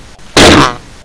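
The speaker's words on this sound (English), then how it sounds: "It was the worst fart of his life." A comic fart sound effect in a radio play, a single loud, broad burst lasting about half a second, standing alone with no talk over it.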